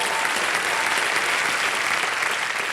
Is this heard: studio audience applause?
yes